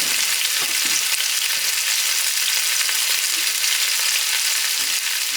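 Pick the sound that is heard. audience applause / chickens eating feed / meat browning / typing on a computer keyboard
meat browning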